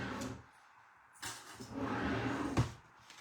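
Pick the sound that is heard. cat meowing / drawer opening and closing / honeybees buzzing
drawer opening and closing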